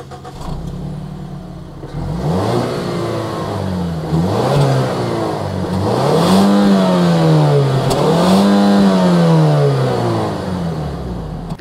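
A Mazda CX-50 Meridian Edition SUV engine idles, then revs repeatedly through the exhaust, several loud rising-and-falling bursts up close, with a deep throaty growl between them.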